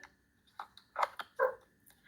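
Dogs barking at some distance, three or four short yelps spaced irregularly over about two seconds, fairly faint against a quiet room with no talk.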